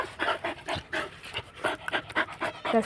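A dog pants in quick, steady rhythmic breaths close by, with no talk over it.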